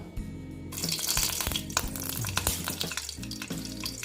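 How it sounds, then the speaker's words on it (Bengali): Green chilies hit hot oil for tempering and burst into a loud, steady frying sizzle with crackling pops, close up, alongside some clinking and scraping. "এখন আমি ফোড়নে দিয়ে দিচ্ছি দেখো কাঁচা লঙ্কা"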